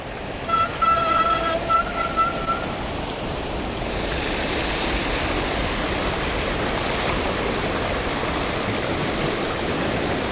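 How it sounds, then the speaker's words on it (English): Fast-running river water at a causeway crossing in Goldsborough Valley, a steady broadband rush that fills the clip, with a brief tonal whistle or toot near the start. "Now, the water's running pretty quick, but I think we'll make it."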